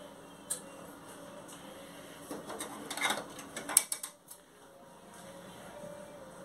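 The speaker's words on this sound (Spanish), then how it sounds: "y lo volvemos a encender." Mechanical whirring and clicking from a Ricoh printer powering back up after being switched off, with a burst of ratcheting, gear-like rattles in the middle over a low steady hum, fairly faint and close.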